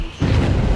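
A sudden deep boom erupts and rumbles on, a dense low roar of a generator explosion in Dead by Daylight filling the short moment.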